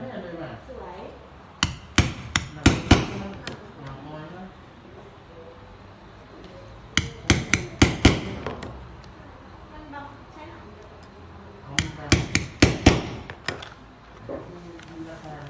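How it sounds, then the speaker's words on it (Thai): Hammer strikes fastening a side fastener on a handmade leather wallet, arriving in three quick bursts of sharp taps separated by pauses, with someone talking throughout. "เวลาที่เราตอกจากขวามาทางซ้ายเราจะไม่ถนัด"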